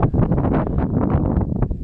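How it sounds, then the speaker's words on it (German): Strong wind buffeting a microphone outdoors, loud continuous low rumbling gusts with no clear voice over it. "Ja, ich weiß, es ist windig."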